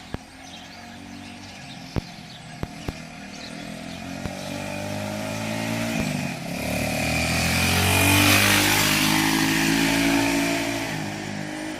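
A freshly rebuilt Honda XL 125S motorcycle engine starts up after a few sharp knocks, then idles and revs up in a rising, buzzing drone, close and fairly loud.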